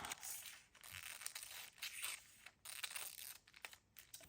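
Paper is cut, making faint, close, irregular crisp rasps and tearing-like bursts with short pauses between strokes.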